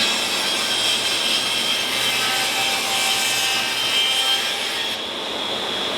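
A wood slab being cut with a saw while breaking slabs down into butcher block, around a small knot; a steady, loud, continuous sawing roar with no talking, easing off slightly near the end.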